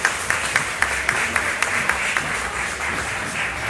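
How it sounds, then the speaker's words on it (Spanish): An audience applauds at a live event, a steady, dense wash of many hands clapping with sharper individual claps standing out near the start, loud and continuous throughout. "Un aplauso para él."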